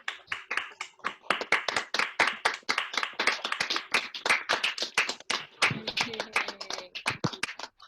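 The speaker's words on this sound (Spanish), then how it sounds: "les convoco ahora a abrir micrófonos y a aplaudir" Hand clapping from participants during an online talk with open microphones, heard as distinct, somewhat uneven claps, several people clapping close to the mic rather than a blended crowd roar.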